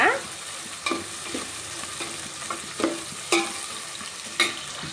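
Onion pieces frying in a pan for mung dal khichdi, a steady low sizzle with several short scraping stir strokes spaced through it, close and moderately loud, no voices.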